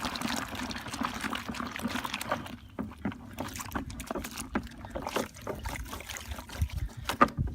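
A wheel-cleaning brush swishes and sloshes about in a bucket of water, a close run of irregular splashes, drips and gurgles continuing throughout.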